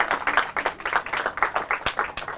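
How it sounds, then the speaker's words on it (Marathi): A studio audience at a Marathi quiz show claps enthusiastically as the third round ends, producing a dense, uneven patter of hand claps that rises and falls in bursts, loud and close. "तुम्ही जोरदार टाळ्या वाजवा त्याच्यासाठी"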